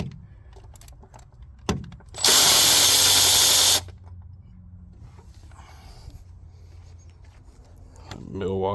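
Milwaukee M12 power tool loosening a bolt on a 2006 Ford Ranger, a loud steady burst of about a second and a half, with quieter workshop clatter and talk around it.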